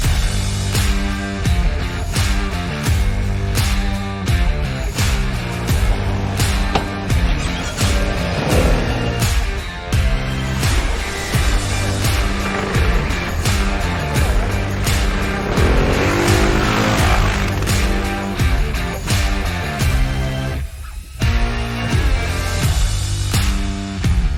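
Voge SR4 Max scooter being ridden on the road: loud close engine note rising and falling through repeated accelerations and slowdowns, with steady wind and road noise throughout and no talking.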